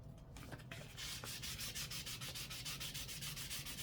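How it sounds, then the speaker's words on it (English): Sandpaper of 1000 grit rubs back and forth over a wet 2006 BMW E90 330i foglight lens, close, steady rhythmic scrubbing strokes. "all I would be doing to clean up those lenses is wet sand it down with some 800 or 1000 grit sandpaper"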